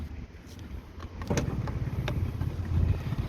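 A Honda Lead AF48 two-stroke scooter engine idles close by with a quiet, rapid putter, its low chugging growing slightly stronger after a clunk partway through.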